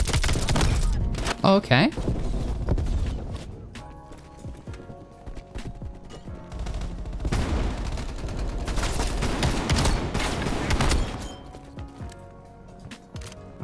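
Gunfire from an XM4 assault rifle in the shooter game Black Ops Cold War, bursts of rapid shots over busy game noise, loud and continuous, with a player's brief remark early on.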